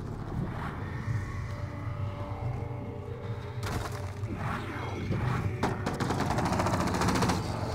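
Automatic weapons fire in the Mass Effect Andromeda video game, rattling bursts that start around midway and grow denser and louder toward the end, over a low background rumble, with no talk.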